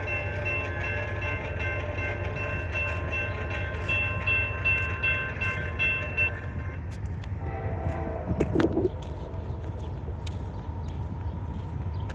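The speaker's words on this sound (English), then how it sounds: "I definitely hear a train, guys." A train rolls past a level crossing in the rain with a sustained low rumble. A steady crossing-bell tone rings over the rumble and then drops away, and a few sharp clanks follow near the end.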